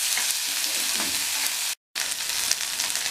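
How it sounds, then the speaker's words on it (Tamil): Chopped tomato and vegetables sizzle steadily in a hot pan while being sautéed for drumstick leaf soup, a close, continuous frying hiss with a brief silent gap. "எல்லாத்தையுமே நல்லா வதக்கி விட்டுக்கோங்க"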